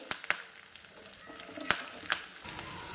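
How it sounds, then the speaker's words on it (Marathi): Green chilies crackle in a hot oil tempering with curry leaves for curd rice, giving a steady close sizzle broken by several sharp pops and spits. "त्यानंतर हिरवी मिरची घालणार आहोत। छानपैकी कडकडीत आपल्याला हा तडका तयार करून घ्यायचा आहे।"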